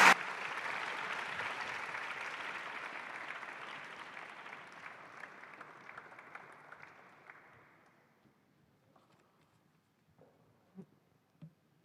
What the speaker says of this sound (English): We request everyone to welcome him with a warm round of applause.